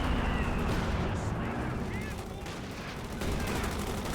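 Mortar blasts and rattling gunfire from a tabletop-style war video game form a dense, continuous roar of overlapping shots and explosions that stays loud throughout.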